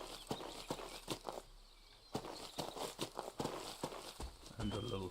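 Horse hooves clip-clopping in the hunting video game Deer Hunter 2005, a steady run of distinct hoof clops alongside someone talking.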